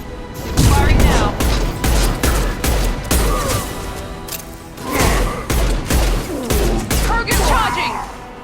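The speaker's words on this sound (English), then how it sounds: "Firing now!" Rapid weapon fire in Mass Effect 2, bursts of loud gunshots and booms repeating in volleys through the battle with brief gaps, voices calling out faintly in the mix.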